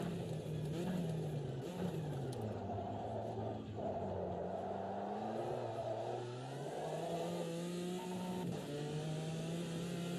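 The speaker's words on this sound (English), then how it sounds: "I keep missing my gear change as well for some reason. I'm hitting the rev limiter." A race car in Automobilista 2 revs hard against its rev limiter, the engine droning at a high pitch with repeated stuttering cuts and rising and falling pitch as gears are missed.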